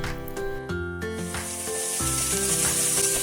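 Marinated prawns fry in hot oil in a wok, a soft sizzle and hiss that grows toward the end beneath prominent background music.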